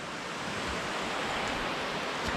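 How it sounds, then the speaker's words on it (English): Continuous broadband roar of rushing, falling water, steady and fairly loud with no voices. "Beautiful waterfall."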